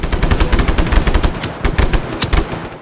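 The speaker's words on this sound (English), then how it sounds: "people are trying to shoot me" Rapid gunfire in the open-world action game Just Cause 3, dense bursts of automatic weapon shots cracking loudly and repeatedly in quick succession, with no voice over them.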